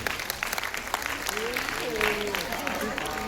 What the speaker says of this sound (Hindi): एक बार जोरदार ताली सभी के लिए उनसे।